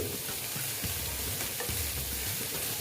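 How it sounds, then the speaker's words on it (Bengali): Ginger paste frying in a pan as the base for a spicy boal fish curry, a steady close sizzle with occasional stirring scrapes and no talk. "আদা বাটা দিয়ে দিলাম ভালো মতন ভেজে নিচ্ছি"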